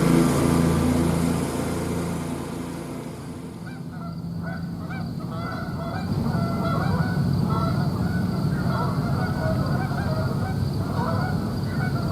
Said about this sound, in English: you think geese are annoying?